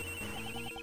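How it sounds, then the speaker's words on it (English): Several mobile phones ringing at once in Ace Attorney Investigations 2, a steady electronic ringtone chiming in repeated short pulses, moderately quiet and without voices. "That sound is... her cell phone."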